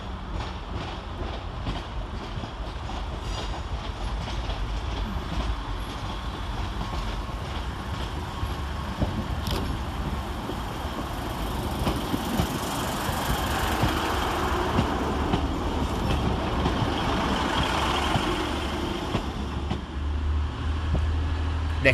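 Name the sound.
Northern train 150276 at Sheffield railway station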